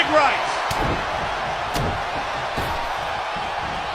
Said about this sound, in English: And now they're just trading blows.